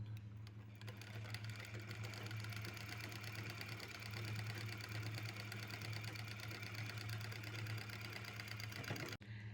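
A sewing machine stitches a blouse, running steadily with an even, rapid mechanical whir and needle clatter for nearly ten seconds. It stops abruptly right at the end, and no voices are heard.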